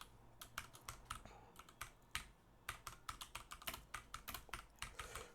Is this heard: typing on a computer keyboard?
yes